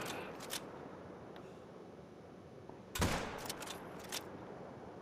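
Rifle shots in the hunting game theHunter: Call of the Wild, a sharp burst of several cracks close together midway, with a fainter shot early on, over a quiet outdoor ambience.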